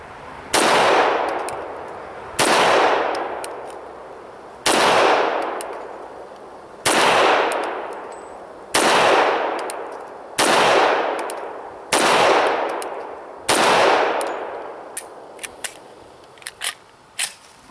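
An FN FNX-45 Tactical pistol fires at a target 10 yards away outdoors. Eight loud, sharp gunshots ring out roughly two seconds apart, each trailing a short echo. Faint mechanical clicks follow at the end.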